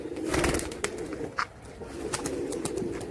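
Pigeons coo in low repeated throbbing calls close by, with a few sharp chirps and brief rustles scattered between, no one speaking.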